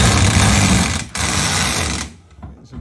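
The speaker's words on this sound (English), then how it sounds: "Doing some drilling there." A power drill bores into a 2023 Ford Ranger Wildtrak pickup while a fifth wheel hitch is fitted, giving a loud, continuous buzzing whir with a brief pause, then trailing off into quieter handling noises.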